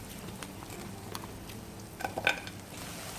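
Small black tiger shrimp sizzle faintly in a pan for a creamy panne pasta, a steady low hiss with a few soft clinks of a utensil near the end.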